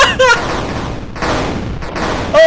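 Loud bursts of gunfire in a horror video game, a dense volley of shots over a couple of seconds with brief pauses, while a voice talks over it.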